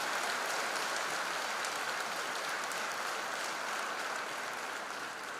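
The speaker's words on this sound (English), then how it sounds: "Please give them a loud applause." A hall audience at a freshers' induction program claps for new students, a dense, steady wash of applause holding at an even level throughout, with no voices rising above it.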